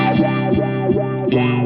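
Electric guitar run through a 4-stage phaser pedal, sustained distorted notes with a deep, regular whooshing sweep recurring several times a second, loud and close with no talking.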